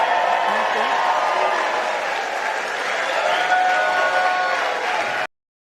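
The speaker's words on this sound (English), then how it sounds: "And that applause went on for many minutes." Sustained, loud applause mixed with cheering from a large crowd at a Trump rally speech, continuing steadily throughout without a break.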